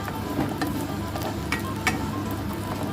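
Fresh chestnuts roasting with salt in a pan over low heat give a steady, close sizzle with scattered light crackles and occasional sharper ticks as they shift and are stirred.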